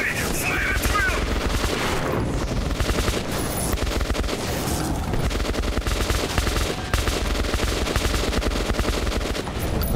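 Sustained heavy gunfire from several weapons in Metro 2033 Redux, overlapping automatic bursts forming a loud, unbroken barrage with faint voices mixed in.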